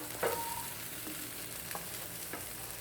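A tuna burger bound with egg fries quietly in a pan, a soft continuous sizzle with a couple of faint utensil taps, heard alone without talking.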